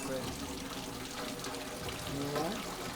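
Cold water runs from a tap into a sink in a steady, close gush, with some harmonic hiss of flow under faint background voices.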